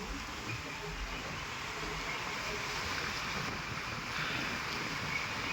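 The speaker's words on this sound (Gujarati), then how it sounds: "વાવડો એટલો છે કેમ કે વાતાવરણ આખું બદલી ગયું" Strong wind roars steadily at the seashore, a dense continuous rush with low buffeting against the microphone and surf blending in.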